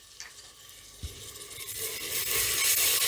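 Onion with ginger garlic paste fries in a pan, a soft sizzle that swells steadily louder, broken by a couple of faint spoon clinks early on.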